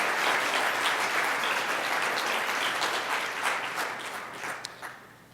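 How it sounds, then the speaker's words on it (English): A banquet audience applauds the dining staff in dense, steady clapping that holds strong for several seconds, then thins and tapers off toward the end. "So would you give them a round of applause, because we're thankful for them."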